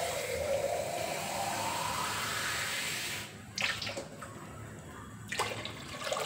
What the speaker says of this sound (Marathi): दोन 3 तांबे पाणी टाकू आपण याच्यात.